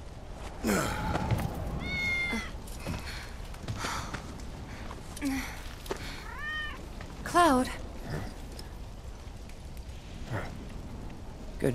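Cat meowing in Final Fantasy VII Remake, several short rising meows at close range amid light rain and soft ambient sounds, with brief character speech.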